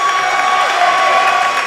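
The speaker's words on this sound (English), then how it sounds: "You can really hear the crowd getting into it here in Hillsboro." A basketball crowd in a college gym in Hillsboro roaring during a men's game, a loud continuous wash of cheering and shouting with no pauses.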